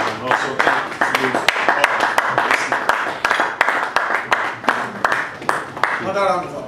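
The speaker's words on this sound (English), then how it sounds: "Another round of applause, please." Audience applause after a speech at a Nigerian political gathering: scattered and rhythmic clapping from a moderate crowd, with sharp individual claps standing out, mixed with voices talking over and between the hands.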